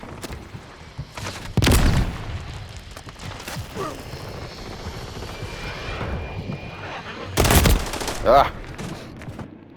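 Gunfire in Call of Duty Modern Warfare 3: two loud, dense bursts of shots separated by several seconds, over a constant background of engine drone and battle noise, with a short grunt from a voice.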